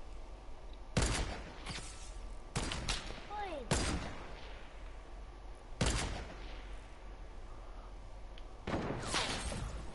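Drum gun firing in a shooter video game, with several sharp loud bursts spaced a second or two apart over quiet game ambience and a few descending whistle-like effects in between.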